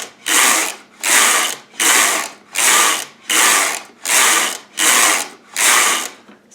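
A vintage Sister toy knitting machine with 49 needles clatters through eight loud, even carriage passes, each a rhythmic mechanical whir separated by brief pauses, close and alone.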